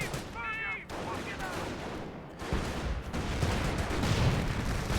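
Incendiary artillery barrage in Company of Heroes, a British versus Panzer Elite match, with dense, continuous crackling impacts and booms that build steadily louder across the stretch, a whistling shell sound near the start.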